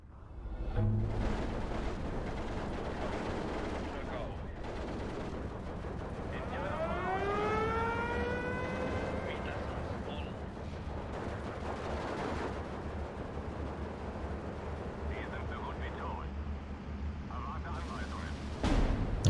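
Artillery fire in the World War II strategy game Steel Division 2, Karelia campaign, plays as a steady din of rumbling blasts and crackling bursts, with whistling, sweeping tones of incoming shells in the middle.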